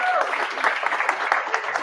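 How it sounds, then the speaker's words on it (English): A room full of people gives a round of applause at a Python meetup talk, steady dense clapping throughout the short burst with no speech over it. "Then I think we owe a round of applause for Luciano for bringing this book"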